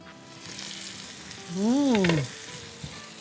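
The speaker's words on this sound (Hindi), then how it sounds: "घी में भुनने की लौकी की ऐसी ख़तरनाक खुशबुएं आ रही हैं।" Bottle gourd fries in ghee with a steady, close sizzle, briefly overlaid by a short rising-and-falling tonal sound in the middle.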